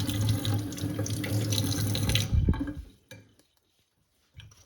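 Tap water runs steadily into a sink while an inking brush is rinsed with laundry soap, then the flow cuts off, leaving a few faint clinks and drips.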